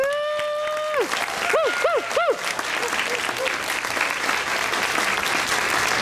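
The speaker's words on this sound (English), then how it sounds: "Let's give yourself a big applause." An audience at a nursing pinning ceremony for graduating registered nurses bursts into loud, sustained applause with cheering, following a brief spoken line and a few electronic tones at the start.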